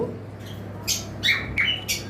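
Lutino and blue peach-faced lovebirds let out several short, sharp, close squawks in quick succession over a low steady background hum, with no voices.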